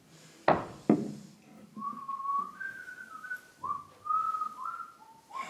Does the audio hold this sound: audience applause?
no